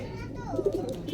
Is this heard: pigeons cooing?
yes